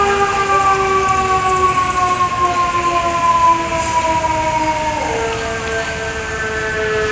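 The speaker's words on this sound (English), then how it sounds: "Okay, that's a weird siren." Fire truck siren sounding at a fire truck parade in Montreal, a loud continuous wail with steady tones that drop in pitch midway, heard over a constant rumble of traffic.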